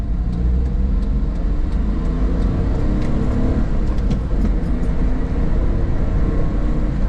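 Steady low engine rumble of a Honda Life kei car moving along, continuous and close, with no voices.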